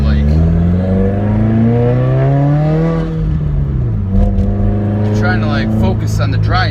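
A straight-piped 2015 Subaru WRX with a manual gearbox drones loudly from the cabin, engine pitch climbing then dropping as it shifts and pulls away again, with a voice talking over the steady exhaust roar.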